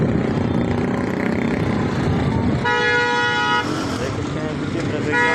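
Car and truck horns honk repeatedly in a dense traffic jam at a Karachi road junction after a crash between a bike and a truck, over constant engine rumble and crowd voices nearby.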